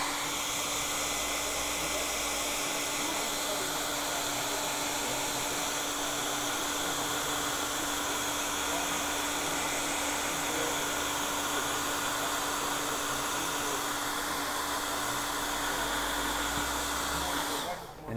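A hot-air blower heats a programmable camouflage sample to shift its color, producing a loud, steady whirring hiss with a constant hum that runs for about seventeen seconds before cutting off.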